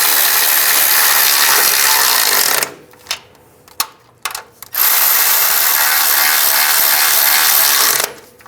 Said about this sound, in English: I'm going to tighten all these down.